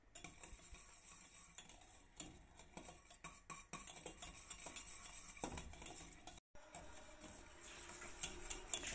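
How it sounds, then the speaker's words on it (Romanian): A spoon stirs semolina cooking in milk in a pot, scraping and clinking steadily against the metal sides with a soft bubbling underneath, close up and continuous without speech. "Amestecăm, amestecăm tot timpul."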